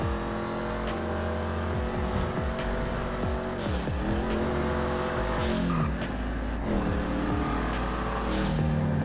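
A revving Ford Mustang engine in GTA 5 climbs in pitch, then drops sharply at several gear changes before winding up again, loud and continuous.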